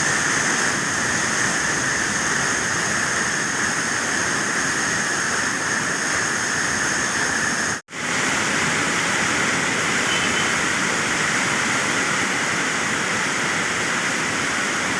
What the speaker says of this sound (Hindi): पानी बढ़ रहा है और वो जगह खाली हुई पड़ी।